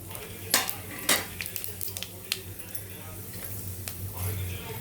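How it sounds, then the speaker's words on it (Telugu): Mustard seeds, cumin and fenugreek crackling in hot oil for a jackfruit seed curry, a faint steady sizzle with a few sharp pops and utensil scrapes, close by. "ఆవాలు, జీలకర్ర వేస్తున్నాండి."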